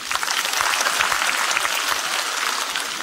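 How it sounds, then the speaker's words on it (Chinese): An audience at a live Cantonese comedy show claps, a continuous loud patter of many hands lasting about three seconds with no voices over it. "拍拍手。"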